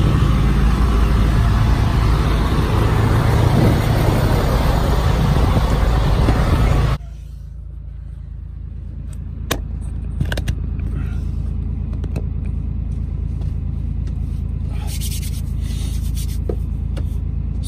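A truck heard from inside, a loud broadband rumble for about seven seconds, then a quiet steady idle hum in the cab with a few scattered rubs and clicks, no talk.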